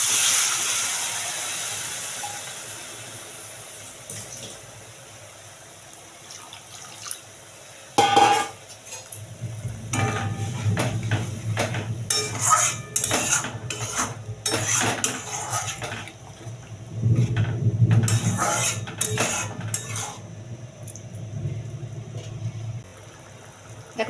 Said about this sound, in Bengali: আমি এতে মশলা ধোয়া জলগুলো অল্প দিয়ে দেব।